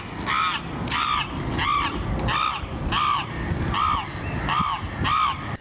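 Crows caw again and again in a string of about eight harsh, evenly spaced calls, loud and close, with no talking.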